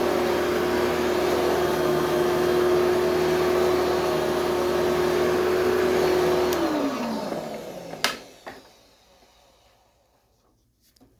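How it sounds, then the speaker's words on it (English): A 2003 Sanitaire SC4570B-1 upright vacuum cleaner runs with a steady drone and faint whine, then powers down and winds to a stop, followed by a few clicks. "You'll get to hear the vacuum itself,"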